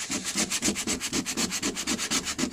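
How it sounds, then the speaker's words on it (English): Hand sanding over dents on the body of a 1995 Ford F250 extended cab pickup makes a brisk, even back-and-forth scrape, about ten strokes repeating close up with no talk. "the grinder couldn't get right in there by hand. So sand it."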